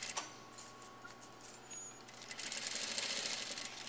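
A sewing machine stitches slowly along an invisible zipper, a quiet, close mechanical whirring that grows slightly busier toward the end, with faint clicks.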